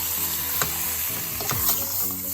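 Washed red lentils stirred into a pot for butternut squash soup make a continuous close sizzle broken by a few quick scraping stirs.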